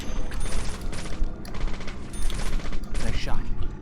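Gunfire in the horror game Deadly Premonition, a series of loud, dense shots and clattering bursts filling the whole moment, with game ambience around them.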